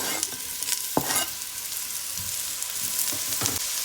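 Onion, pepper, garlic and green onions are stirred in a hot pan, a continuous sizzle broken by a few sharp spoon scrapes and knocks against the pan.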